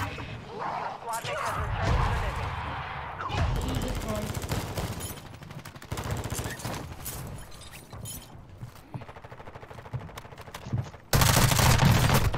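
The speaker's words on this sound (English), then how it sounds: "No, everyone's using fire shotguns." Repeated gunfire from fire shotguns in a chaotic Call of Duty Warzone Zombie Royale match, with bursts of shots and crashes under ongoing speech, ending in a loud, dense stretch of firing.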